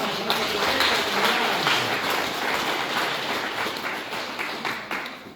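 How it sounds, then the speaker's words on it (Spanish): Crowd applause at a community religious festival gathering, honoring the community president; dense steady clapping throughout, fairly loud and even, gradually thinning toward the end, with no talk over it. "A ver, un poco de aplauso, hermano."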